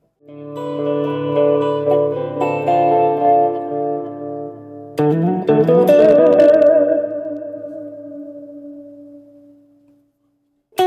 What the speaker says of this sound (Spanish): Esto será un delay más un reverb.